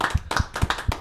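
Studio audience at a Martinique television talk show clapping in rhythm: four sharp, evenly spaced claps in quick succession, close and clear with no talk.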